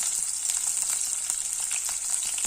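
Small shallots and green chillies sautéing in a pan give a dense, even sizzle with a bright hiss and scattered crackles, close and constant with no voices.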